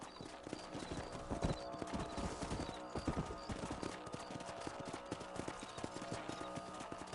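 Horse hooves clip-clop steadily across the ground in Red Dead Redemption, a rhythmic run of close, fairly loud hoofbeats with an occasional whinny mixed in and no talking.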